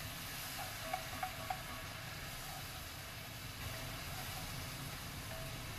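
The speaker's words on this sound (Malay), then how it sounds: "Tuangkan sedikit air. Ini kira macam proses deglazing" A steady, broad hiss of sizzling as water deglazes a hot wok, with a few faint clicks and pops rising above it.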